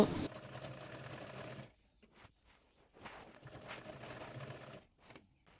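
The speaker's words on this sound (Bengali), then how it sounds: "এরপর নিচের পাটের কুচিটির উপর চাপ সেলাই দিয়ে নেব" A sewing machine topstitches pleats on a small girl's half pants, its steady mechanical whirr running for a bit under two seconds, then stopping and restarting in shorter bursts at a moderate, close level.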